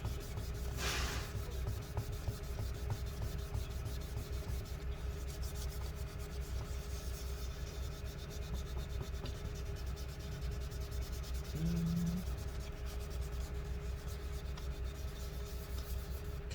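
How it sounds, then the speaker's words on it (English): Adhesive being rubbed off the battery area of a 13-inch mid-2017 MacBook Pro A1708 with rubbing alcohol, a continuous soft scrubbing rasp, close and steady, with a brief faint tone near the end. "let's go ahead and keep rubbing all this stuff off. You can see it's slowly getting that adhesive out."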